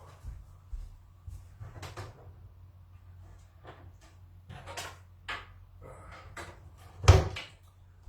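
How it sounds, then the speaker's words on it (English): Someone rummages through a drawer for a USB cable, making scattered clicks, knocks and sliding rattles of objects being shifted about, with a louder thump near the end, close and fairly quiet over a low steady hum. "Let me just have a look over here and see if it's in this drawer."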